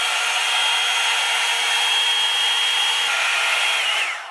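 A Revlon Salon One-Step hair dryer and volumizer runs on its high setting, a steady close whooshing roar that holds evenly for about four seconds before it starts to fade at the end, with no talking over it.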